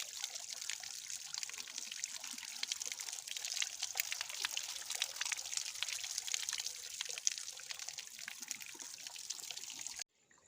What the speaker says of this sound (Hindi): यहाँ पानी आ रहा है जिसको हम बोलते हैं छोई का पानी, इस चौमास के समय आता है।